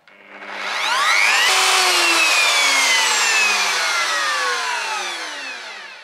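A wood router cuts a decorative groove into a door, a loud sustained high whine with falling and rising pitch that holds steady for several seconds before easing off.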